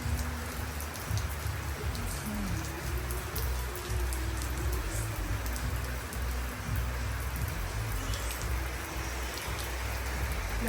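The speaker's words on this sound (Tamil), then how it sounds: "இந்த சத்தம் வேறு லெவலில் இருக்குது அப்படியே நல்ல மழை நல்லா இருக்கும்" Heavy rain pours steadily onto surfaces outdoors in Sri Lanka, a dense, constant hiss with pattering drops, loud and unbroken throughout with no talking.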